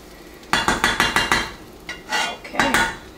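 A spoon scrapes and knocks repeatedly inside a pot of gandules rice cooking in coconut water on the stove, a quick run of rhythmic clanks followed by slower scraping turns, close and clear.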